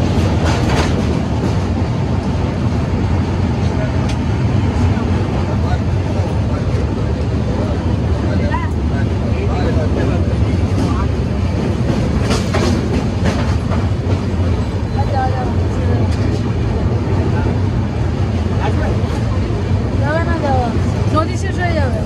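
Coromandel Express passenger train running over the 1.1 km rail bridge across the Krishna river, a steady loud rumble with repeated clickety-clack of wheels on the track throughout, with a voice talking over it.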